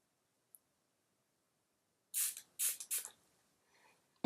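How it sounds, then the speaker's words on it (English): Three quick spritzes of Smashbox Primer Water from a pump spray bottle hit a makeup brush in close succession after a quiet pause, crisp and near, followed by a faint rustle. "I'm gonna spray my brush a little bit with the Smashbox Primer Water"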